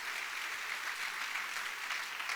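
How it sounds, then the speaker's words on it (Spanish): A church congregation breaks into applause, a soft, steady patter of many hands clapping heard from some distance and fairly quiet, with no one speaking. "Dele ese fuerte aplauso al Rey de Gloria, Jesucristo nuestro Señor."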